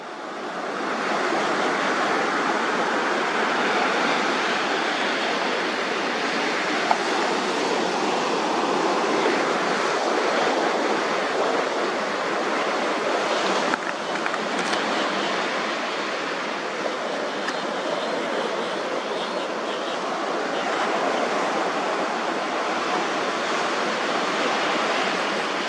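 Sea water washes continuously against the shoreline in a soft, even broadband rush, with slight swells in loudness and some wind, fairly close and without voices.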